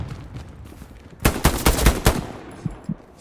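Gunfire in the World War II shooter Hell Let Loose: quiet background shots, then a loud close burst of several rapid cracks, followed by a few fainter scattered shots.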